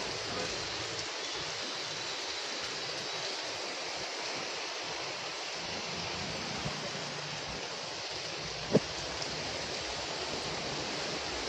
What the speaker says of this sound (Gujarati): મેઘરાજા મન મૂકીને વરસી રહ્યા છે.